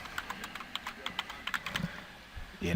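Keys clatter on a computer keyboard in a quick, irregular run of light taps, close and fairly quiet, with no voices over it.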